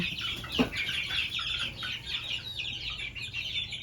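Backyard chickens of a black-over-gray bloodline cluck steadily in a busy flock, overlapping soft calls with one sharper squawk early on, against constant farmyard background noise.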